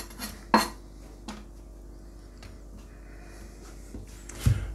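A Japanese nakiri knife cuts on a board, producing a few isolated sharp knocks spaced unevenly, close and fairly quiet against a low background hum.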